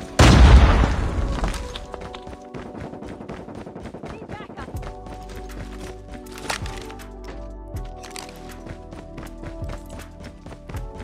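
Grenade explosion in an online shooter video game, a loud booming blast at the start that decays into scattered rapid gunfire taps, footsteps and clatter of the match continuing behind it.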